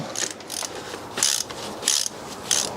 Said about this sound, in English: They are T45, or they take a T45 socket. I'll crack them loose.